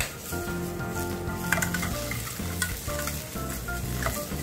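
Onion stir-fried fast over high heat in a wok for a Chinese pepper japchae, with a steady loud sizzle and a few spatula clanks, over a tonal musical bed.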